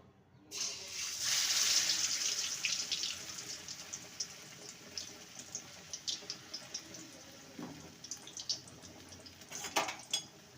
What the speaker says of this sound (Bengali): এবারে এটাকে তেলে ভেজে নেব এবারে বেগুনটাকে তেলে দিয়ে দেবো